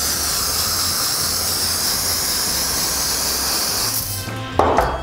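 A KURE 5-56 lubricant cleaner aerosol can spraying, a loud continuous close hiss lasting several seconds that cuts off near the end, followed by a brief knock.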